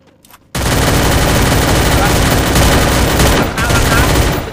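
Sustained automatic MP5 gunfire from the mobile battle-royale game Free Fire, a loud, dense stream of rapid shots starting abruptly after a brief quiet moment and continuing almost unbroken with a slight dip near the end.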